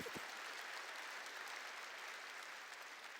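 A church congregation applauds during a Korean sermon, with even, sustained clapping that sounds somewhat distant and soft, running continuously throughout.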